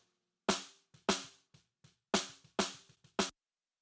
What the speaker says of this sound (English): Snare bottom mic sounds like this.